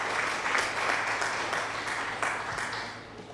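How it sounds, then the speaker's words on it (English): Applause sound effect from a livestream alert plays as a continuous patter of clapping, fairly steady and moderately loud for a few seconds, with no talking over it. "Thank you, Datacoat, for the applause."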